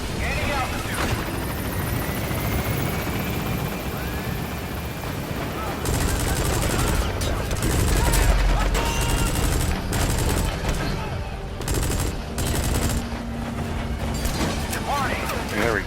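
A helicopter drones close and steady in Metal Gear Solid V while rapid bursts of gunfire crackle around it, the shots growing denser midway, with muffled voices mixed underneath.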